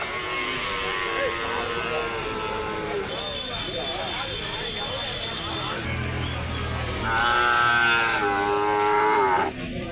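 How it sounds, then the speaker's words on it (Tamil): Cattle, native cows and heifers being unloaded at a rural livestock market, moo in long drawn-out calls, one loud and near toward the end, amid constant crowd chatter and people talking. "ஃபுல்லாக வந்து மாடுங்க வந்து இப்போ வந்து இறக்குறாங்க"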